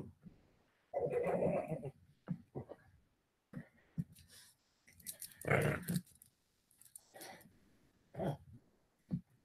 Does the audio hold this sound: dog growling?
yes